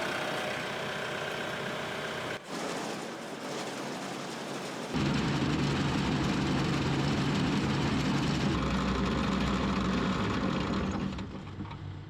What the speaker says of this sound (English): I'm gonna kick PTO on,